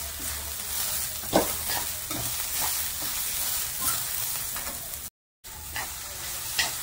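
Thinly cut long vegetables for veg spring rolls get stir-fried and mixed in a pan, a steady sizzle broken by repeated scraping stirs, with one sharp clatter and a very brief gap in the sound.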